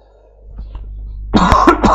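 A single sharp, loud cough with throat clearing bursts out close after a quiet start, a brief rough rasp at the end of the moment.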